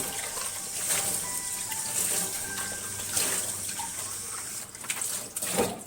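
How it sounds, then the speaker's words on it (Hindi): Water gushes steadily into a cooking pot as it is washed by hand, a continuous splashing, running-water sound that swells and dips for several seconds. "बर्तन के अंदर हाथ डालकर अच्छी तरीके से पानी डाल के धोया"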